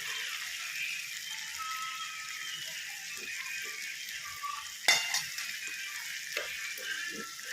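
Desi bhaji gravy cooks in a village kitchen as salt goes in, giving a steady quiet hiss of sizzling with a few sharp clinks and rattles of a spoon against the pan near the middle.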